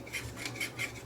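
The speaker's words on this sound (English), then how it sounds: "listen to the Capstan motor. Listen to this. That's not supposed to do that." A Sony SLV-R1000 VCR's faulty capstan motor gives a faint, rhythmic scraping whir that pulses about four times in a second, as if a bearing is worn or coming apart.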